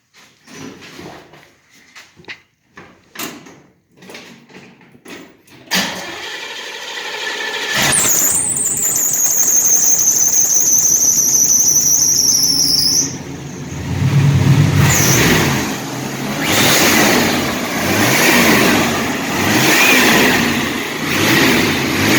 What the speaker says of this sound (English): It's probably going to squeak the belt a little bit, but I'll fire it up and you can hear it run.